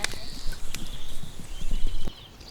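A horse's hooves clip-clop in a quick, steady rhythm at moderate distance, with bird calls and faint background noise, ending abruptly after about two seconds.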